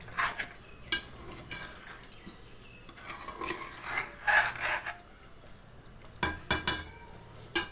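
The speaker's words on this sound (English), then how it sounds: "We're going to give it a stir" Mutton noodles being stirred in oil in a pan over a low flame, with intermittent scraping and clinking of a utensil against the pan, soft and close, with louder scrapes near the end.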